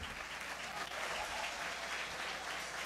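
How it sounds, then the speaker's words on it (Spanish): A church congregation applauds during a morning service: a steady, dense wash of many hands clapping together, continuous and even throughout, heard from a distance and fairly faint. "denle un aplauso al Señor en esta mañana"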